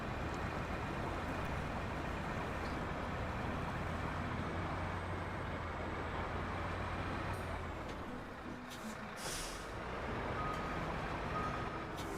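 A heavy truck in the SnowRunner video game hauling two trailers, a steady low engine drone running throughout at moderate level, briefly dipping before resuming, with no speech.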